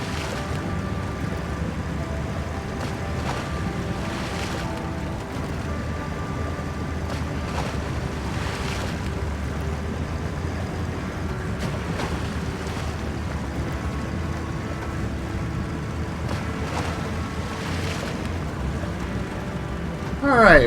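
A vehicle drives across water in a video game on an expedition, its steady engine drone blending with continuous sloshing and wind-like rush that holds at an even level for the whole stretch, with a brief louder burst at the very end.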